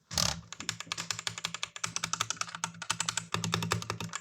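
Typing on a new, hot-swappable mechanical keyboard: a rapid, close, crisp run of clacky keystrokes with brief pauses, starting after a short burst of noise, heard alone without speech.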